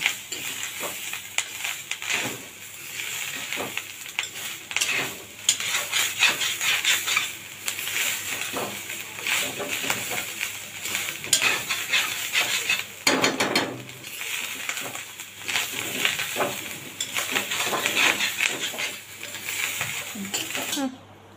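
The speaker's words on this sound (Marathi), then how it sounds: "आता हा ओला खोबरा चांगला भाजून घेऊया" Continuous scraping and clattering of a spatula stirring fresh grated coconut roasting in a pan, with irregular rhythmic scrapes throughout.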